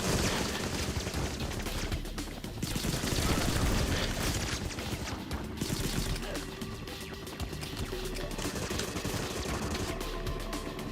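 Continuous dense gunfire in the video game Agent 64: Spies Never Die, a loud, steady barrage of shots and impacts running the whole time without letup.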